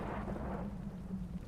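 Heavy rain and a low rolling rumble of thunder from the adventure game Secret Files: Tunguska form a dense, steady wash that fades slightly toward the end, with no voices.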